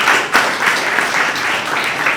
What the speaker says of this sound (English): Put your hands together for yourselves.